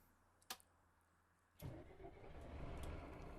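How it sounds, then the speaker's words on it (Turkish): A Mercedes Citaro O530 city bus engine starts in the OMSI 2 simulator: a couple of faint clicks, then the diesel catches and settles into a steady, rising idle rumble. "Böyle aracımızı çalıştıralım."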